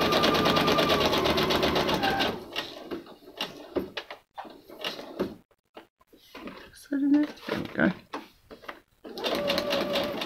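A sewing machine stitches vellum pages in a close, rapid mechanical burst at the start and again at the end, with quieter handling clatter and a person speaking between them.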